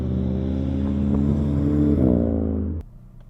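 A Volkswagen MK7 GTI making 300 wheel horsepower revs loudly and steadily up close, its tone climbing before cutting off abruptly near the end.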